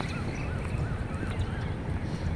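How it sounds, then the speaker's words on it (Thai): Birds calling loudly with repeated warbling, squeaky notes over a dense, rumbling outdoor background, on a morning in Nakhon Sawan, Thailand. "ดูนกอะไร ไม่รู้กุ๊กวิ๊กกุ๊กวิ๊กลั่นไปหมด"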